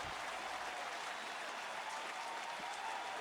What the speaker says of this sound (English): We give all a round of applause.